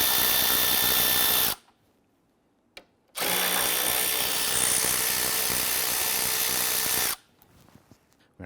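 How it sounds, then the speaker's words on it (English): A power tool whirs steadily while loosening 10mm bolts under the headlamp of a Jeep Grand Cherokee, in two loud, sustained runs separated by a short pause with a faint click. "Loosen and remove the two 10mm bolts underneath the headlamp."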